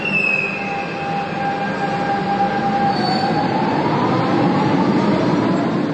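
A Lisbon metro train running underground, loud steady rumble of wheels on rails with long high-pitched squeals of the wheels throughout.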